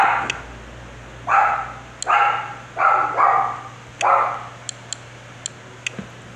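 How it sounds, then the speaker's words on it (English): A dog barks five times in a close, fairly loud series with short pauses between them, while faint sharp ticks sound in the background. "Sorry, that was my dog."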